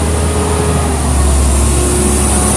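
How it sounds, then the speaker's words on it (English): A garbage truck rolls past as a loud, continuous low engine rumble that swells slightly midway and stays heavy to the end, with no talking. "I got a garbage truck coming by"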